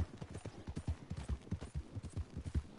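Horse hooves clip-clop in a quick, even galloping rhythm in a video game, faint and low, carrying two riders, with no talk over it.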